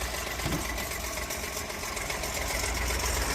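A Mercedes car engine runs steadily at idle with a continuous, fairly loud low hum and mechanical drone, with no talking over it.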